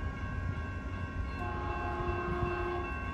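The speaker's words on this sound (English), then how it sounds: "Approaching Caltrain 516. Headed to San Jose Deaver now station." Caltrain train 516 with an MP36 locomotive arrives at Redwood City station, bound for San Jose, producing a steady low rumble with sustained tonal horn or whistle notes throughout.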